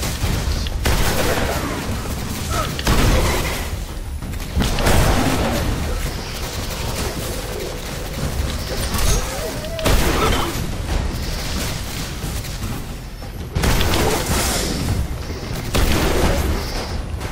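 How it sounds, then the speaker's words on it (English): Shotgun blasts in the sci-fi shooter Destiny go off in several loud bursts with booming tails. Game combat noise fills the gaps between shots. "Alright, shotgun time."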